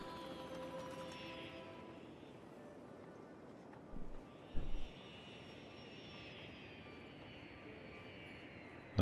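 A passenger airplane in the Cities Skylines city-building game arrives at the airport with a steady, far-off jet engine roar and a faint whine, while a few soft thumps rise briefly in the middle.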